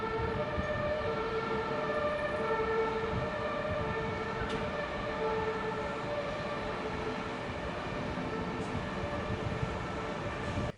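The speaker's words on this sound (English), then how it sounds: "See there the U-Bahn trains crossing it." Berlin U-Bahn trains crossing overhead with a steady, continuous rumble and sustained tonal whine, loud and unbroken throughout, no voices.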